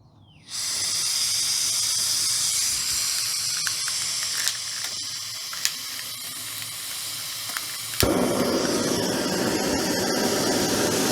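An MSR Pocket Rocket 2 backpacking gas stove roars steadily at full throttle with a loud, broad hissing rush, preceded by a brief ignition click and with small clicks and clatter along the way.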